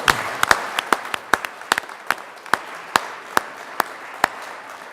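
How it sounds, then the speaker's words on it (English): Applause in a state senate chamber for a high school marching band: a thinning round of separate sharp claps, fairly close, spacing out over time and fading toward the end, with no voices. "please join me again in giving the Canyon City High School Marching Band one more round of applause"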